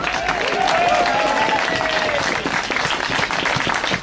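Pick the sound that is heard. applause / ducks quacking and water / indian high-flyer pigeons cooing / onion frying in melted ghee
applause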